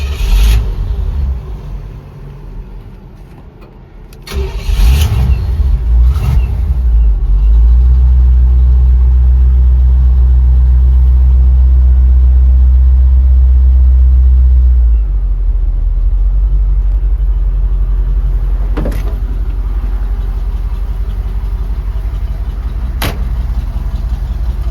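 A 1956 Chevy truck engine cranks and fires up, then settles into a loud, steady low rumble at idle close by, with a higher-revving stretch before it eases back down.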